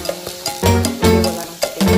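Thick biko (sticky rice cake) mixture is stirred in a pan. It makes loud, close, rhythmic scraping and squelching strokes about twice a second over a faint sizzle, with no talking.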